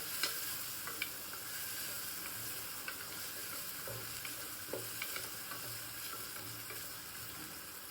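Chopped onion fries with cumin seeds in a pressure cooker, giving a steady close sizzle with occasional clicks and scrapes of stirring and no voices.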